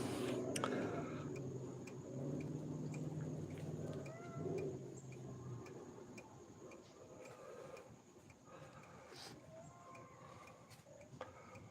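Outdoors, a mother cat cries for her missing kitten with faint, distant meows over a quiet background hum.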